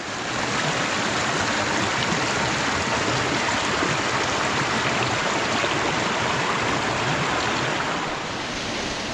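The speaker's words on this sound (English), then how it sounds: "Just walking along this stream, just so much water here." Water rushing steadily along a stream in a nature preserve near Drumore, Pennsylvania, a loud, continuous broadband babble and splash close by, unbroken for the whole stretch with no voices.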